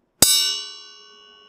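A single struck metal percussion instrument rings out like a bell, one clean hit followed by a long, slowly fading shimmer, alone and close.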